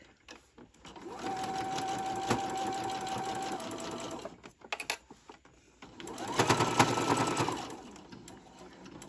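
A sewing machine stitches a ruffle onto a tote bag in two runs, a longer steady one and a shorter one after a pause filled with faint handling clicks.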